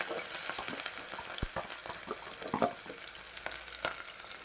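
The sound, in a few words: onion and garlic frying in a pan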